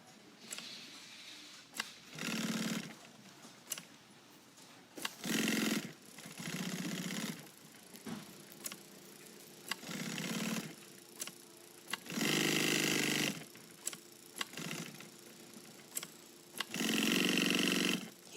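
A sewing machine stitches a 2-inch webbing loop with back tacks at both ends, running in several separate bursts of a few seconds each with short pauses between, close and steady.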